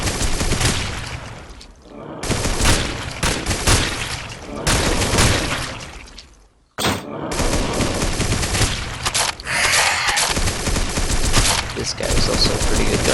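Rapid, dense gunfire from the video game SAS 3 rattles in long loud bursts, with a couple of brief pauses and a sharp restart, close and overwhelming.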